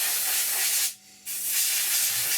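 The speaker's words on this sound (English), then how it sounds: "we're just going to spray these resin hubs white" Airbrush spraying white paint onto resin wheel hubs at very high compressor pressure, a steady close hiss that cuts out briefly for a moment, then resumes just as strongly.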